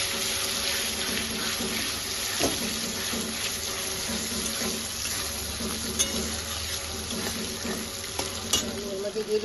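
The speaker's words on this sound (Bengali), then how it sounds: "এবার আমি কেটে ধুয়ে পরিষ্কার করে রাখা তেলটাকে দিয়ে দিচ্ছি" Katla fish fat frying in a pan, a continuous dense sizzle with hissing bubbling and occasional sharp spits, close and loud, with stirring sounds throughout.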